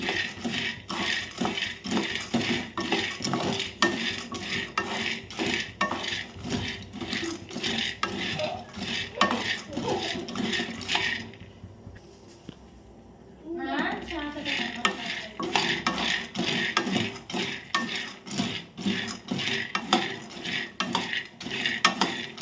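Peanuts roast in a pan over a medium flame, stirred steadily so the dry kernels clatter and scrape against the metal in a continuous rhythmic rattle, with a brief pause partway through before the stirring resumes.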